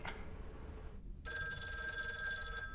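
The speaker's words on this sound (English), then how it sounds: "Phone rings." An electronic telephone ring in a video game starts abruptly after a brief quiet gap, a steady warbling tone holding on, clear and fairly loud.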